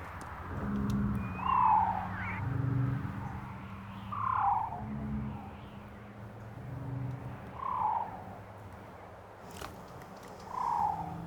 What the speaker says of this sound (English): I can't tell if you're trying to attract your friends or repel them or what you're doing with that little trill sound